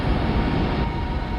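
Low, steady rushing roar of wind on Saturn's moon Titan buffeting a descending probe, broadband and constant with a rumbling, engine-like texture and no voices.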